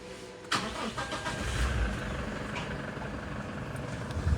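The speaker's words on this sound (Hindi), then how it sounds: "एक बार गाड़ी को स्टार्ट करता हूँ" A car engine cranks and fires at once, then settles into a steady, fairly loud run close by, with no talking over it.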